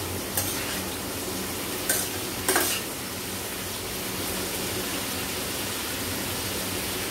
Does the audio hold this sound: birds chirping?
no